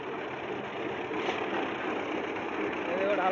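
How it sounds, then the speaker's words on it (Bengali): A concrete mixer machine running at a building site where concrete is being poured, a steady mechanical drone heard somewhat distant under people talking. "এদিকে ঢালাই মেশিন"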